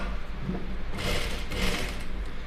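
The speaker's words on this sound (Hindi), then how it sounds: "यहाँ से अब सिलाई चलाएंगे।" A sewing machine stitches a neck strip onto a garment's neckline, giving a steady mechanical whir that runs through the short clip and grows a little louder toward the middle.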